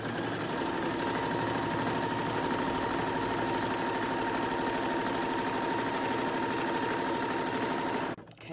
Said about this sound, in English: we're going to sew down to the corner there to make the front neckline